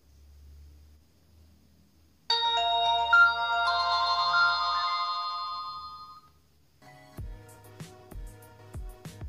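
The startup tune of an Alcatel One Touch 818D feature phone plays on power-up as a bright, sustained melodic chime for about four seconds. A pause follows, then a few sharp beeps and clicks close by.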